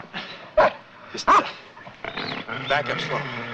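A dog near off-limits woods lets out two sharp, loud barks close together, then the sound settles into lower yips and whines mixed with people talking.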